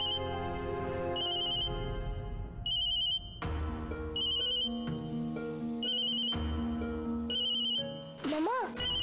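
An electronic phone ringtone chirps in repeated short bursts over background music, with a brief warbling sound near the end.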